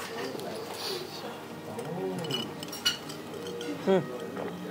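Ice cubes clink against a glass as they are added to a drink at a tasting-menu restaurant, with a few short bright clinks over steady background chatter and room noise.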